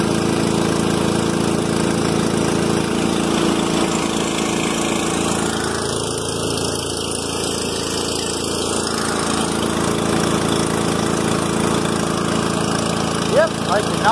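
A small gas engine on a smoke machine, running like a Briggs & Stratton, drones loud and steady at close range the whole time, a lawnmower-like idle with no break.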